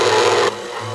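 A KitchenAid stand mixer kneads pizza dough at speed 2, giving a brief, loud mechanical whir that drops noticeably in level halfway through.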